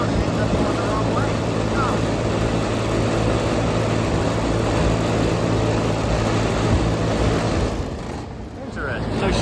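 A Trane kitchen HVAC fan motor runs at speed, a loud continuous droning roar with a steady hum throughout that dips briefly near the end.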